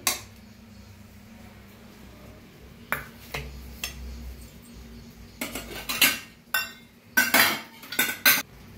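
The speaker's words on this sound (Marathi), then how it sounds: "आता आपण भाजी बी घालूया।" Spoonfuls of cabbage vegetable dish are served into a metal tiffin box, giving scattered clinks and scrapes of utensil on metal, clustering in a quick series near the end, with no talking.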